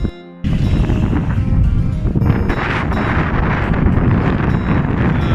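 Strong, cold mountain wind at Seagull Mountain Resort on the Bukidnon-Davao Highway buffets the microphone after a short quiet start, making a loud, continuous roaring rumble throughout.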